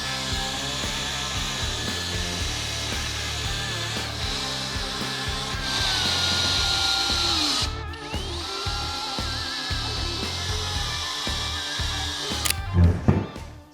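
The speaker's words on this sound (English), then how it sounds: "And then we'll just attach them with these screws." Power drill driving screws into the legs of a cheap wooden outdoor bench, a continuous whirring drone that shifts in pitch and cuts off in the last second.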